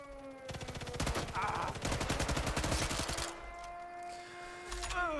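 Assault rifle fire in Sniper Elite 5 rattles out in rapid, loud automatic bursts for about three seconds, then stops, leaving quieter game ambience and a few fainter noises.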